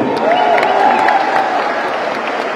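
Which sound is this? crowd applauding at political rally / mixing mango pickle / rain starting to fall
crowd applauding at political rally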